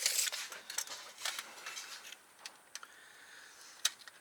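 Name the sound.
cutting up LED strip pieces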